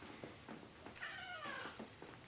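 A house cat lets out a single drawn-out meow, faint and a little distant, over quiet room noise, with no talk.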